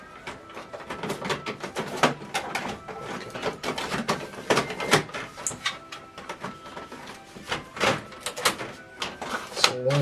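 Plastic paper tray being pulled from an HP OfficeJet 8014 printer: a steady run of close rattling clacks, scrapes and small thunks over ten seconds.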